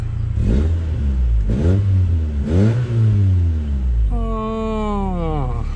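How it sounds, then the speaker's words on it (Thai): A Toyota Corona car with a misfiring, hiccuping engine: three rough revs of the engine rise and fall, then a whining, wavering tone close by. "เดี๋ยวเรามาสตาร์ทฟังเสียงเครื่องยนต์กันนะครับ"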